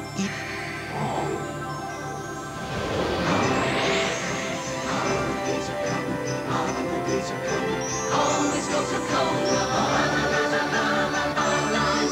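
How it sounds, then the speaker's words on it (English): Several trucks roll over a hill in a TV advert, a steady engine roar with rumbling and clattering bursts that swell and build to loud throughout, no talk heard. "Then the trucks came over the hill."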